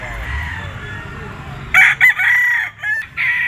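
Roosters crow loudly and close at a pet market, several sharp bursts in quick succession after a stretch of quieter background murmur.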